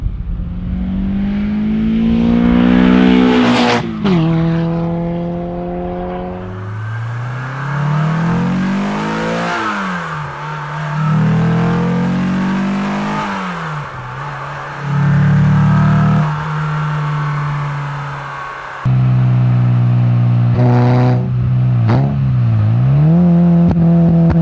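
A Citroën Xsara 2.0L 16V engine with aftermarket exhaust revs hard again and again, pitch sweeping up and dropping back through the gears, loud and raspy with a throaty exhaust snarl.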